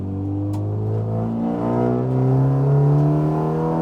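A Super GT race car engine revs loudly and steadily up close on a test track, its pitch climbing in a sustained rising drone.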